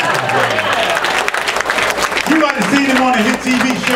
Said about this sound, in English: Keep clapping your hands.